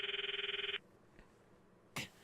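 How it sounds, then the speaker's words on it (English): A phone rings in the Steins;Gate visual novel, a steady pulsing electronic ring tone repeating about a dozen quick beats before cutting off abruptly, followed by quiet and a brief click-like burst. "I stop the video and call Mayuri's phone from my address book"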